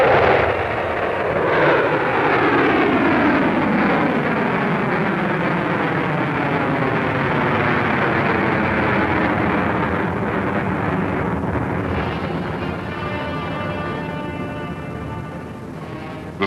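Pershing missile launch and flight: a loud, sustained rocket roar with a rumbling, wavering tone that slowly shifts in pitch as it carries on for over fifteen seconds, gradually easing as it recedes.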